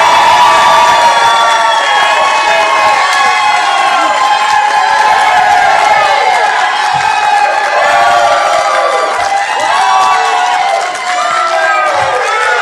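A loud crowd at a New Jersey Republican gubernatorial debate cheers, whoops and claps to welcome a candidate to the stage, a sustained roar with shouts rising above it throughout.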